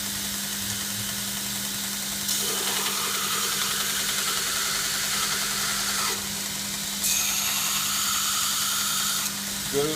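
A belt sander runs continuously with a steady motor hum and abrasive hiss, its pitch shifting slightly a couple of times.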